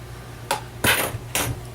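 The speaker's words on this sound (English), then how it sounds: "drop my scissors on the floor." Metal scissors dropped onto a floor, giving three sharp clattering impacts spaced over under two seconds, the middle one loudest, with a low steady hum underneath.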